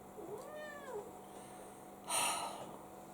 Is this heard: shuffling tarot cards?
no